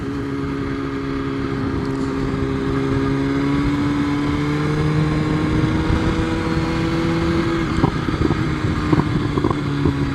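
A 2024 BMW S1000RR sport motorcycle engine drones steadily, then near the end brief crackles and pops burst from the exhaust as the throttle closes and it downshifts.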